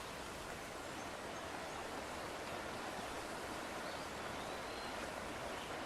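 Steady rushing water of a forest stream flows without pause, a broad even hiss like a stream or small cascade, nothing else standing out.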